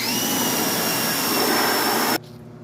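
Steady broadband hiss of a pressure-washer water spray rinsing iron decontamination remover off a Mercedes C300, loud and continuous, cutting off abruptly near the end to near silence.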